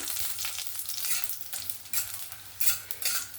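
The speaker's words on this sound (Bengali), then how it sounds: "আমি এখানে কিছু মসুর ডালের বড়ি নিয়েছি দিয়ে এগুলোকে আমি একটু হালকা করে ভেজে তুলে রাখবো" Red lentil wadi, dried dal dumplings, frying in hot oil for a vegetarian gourd and chickpea dish, giving a steady close sizzle with a few louder crackling surges and light stirring scrapes, no talking.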